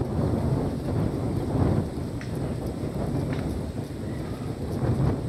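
Strong wind gusting across an outdoor roadside spot, a loud, rough buffeting rush that surges and eases over several seconds, close to the microphone, with no talking.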